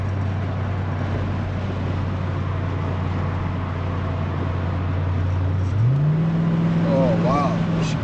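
A Corvette C4 engine drones steadily at a low pitch, then its revs climb and hold higher as the throttle is pressed and the transmission kicks down, close and loud, with a voice briefly audible near the end.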